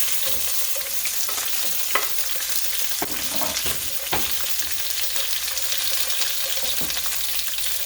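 Green peppers fry in a pan with a steady, continuous sizzle and occasional scraping stirs and light clicks, moderately close and without talk.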